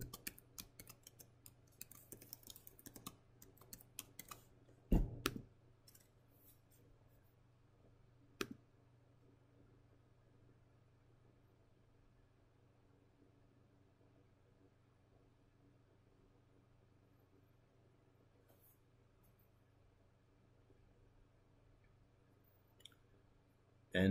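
Password keystrokes on a computer keyboard clatter quietly in a dense burst of clicks during the first few seconds, then a couple of louder isolated taps give way to a near-silent stretch under a low steady hum.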